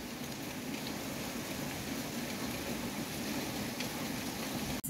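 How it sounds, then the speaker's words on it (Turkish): Heavy morning rain pours down outside in a steady, dense hiss of drops, continuous and moderately loud, with no voices over it. "Siz de gördüğünüz deli gibi yağmur yağıyor."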